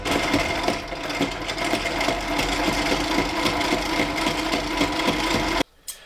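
A Sailrite sewing machine stitching through twelve layers of sail material, a loud rapid mechanical chatter of the needle with a laboring motor, running steadily before cutting off abruptly near the end.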